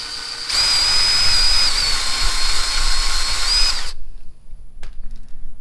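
A power drill whines steadily at high speed for a few seconds, drilling 3/16-inch rivet holes in a plate for a Silverado tail light fix, close and loud, then cuts off abruptly.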